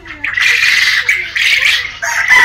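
Quail at a quail farm give dense, overlapping high squawks and chirps close by, forming a continuous flock chatter with a voice faintly underneath.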